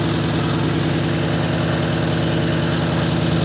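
A 390 engine running at idle after oil was put in its cylinders, a loud close steady rumble with a regular low pulsing that stays dense and even throughout, with no voices.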